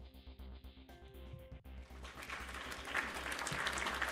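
Clapping rises out of a live trivia stream after a low musical hum cuts off, swelling from scattered hands into a fuller round of applause, close and moderately loud.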